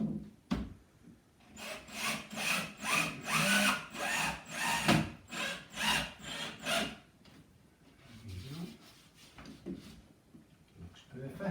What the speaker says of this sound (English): I'll put a couple of screws in just to hold that in place.